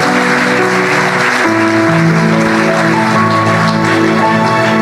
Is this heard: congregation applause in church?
yes